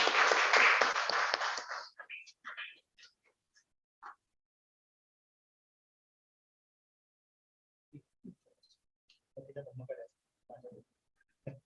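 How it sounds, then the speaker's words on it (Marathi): Audience applause at a Marathi Buddhist sermon gathering on Dr. Babasaheb Ambedkar's contribution to the nation, a dense burst of clapping for about two seconds that stops abruptly, followed by scattered faint sounds and brief talk. "सगळ्यांना विनंती करेल की टाळ्या वाजवायच्या आहेत."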